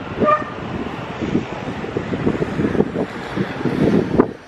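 Steady wind gusts buffet the microphone in Messina, Sicily, a continuous rumbling roar that rises and falls throughout.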